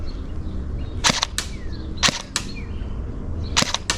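A Novritsch SSE18 airsoft electric rifle firing on single-shot mode outdoors: sharp, snappy cracks in small clusters spaced about a second apart, each with a quick mechanical clack, against a low background rumble.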